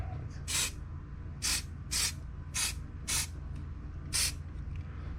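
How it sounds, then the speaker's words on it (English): Six short bursts of aerosol rubber coating spray hiss at a fairly even rhythm, close and crisp, with quiet gaps between each press. "it will actually be a rubber coating on there, and it goes just like spray paint"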